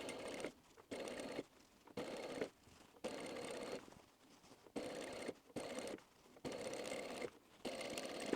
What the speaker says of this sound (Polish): I teraz przeszywam drugą stronę